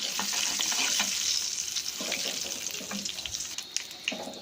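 Dried red chillies, bay leaves and panch phoron frying in hot oil for a tadka, a dense close crackling sizzle with a few spoon scrapes and knocks.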